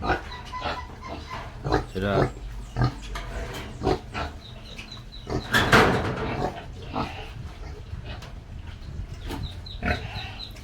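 Pigs in pens on a backyard farm grunt and oink in repeated short bursts close by, with people talking over and between the calls.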